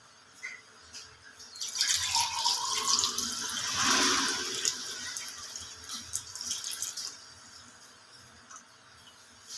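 Coconut milk being poured into a vessel in a home kitchen gives a watery splashing stream that builds to a peak midway and then thins, with insect chirps in the background and no talking.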